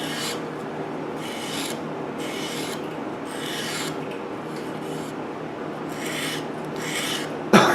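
Wood is sanded by hand with 220 grit sandpaper to round over its edges, in repeated close back-and-forth rasping strokes at a steady rhythm, ending with a sharp knock.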